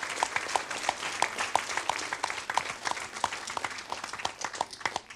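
An audience applauds the associations with scattered, moderately distant clapping that continues steadily throughout.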